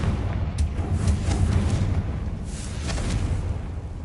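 In the video game Hogwarts Legacy, a Confringo spell detonates in a run of booming, rumbling blasts with sharp bursts near the start and again later, loud and close with no talk.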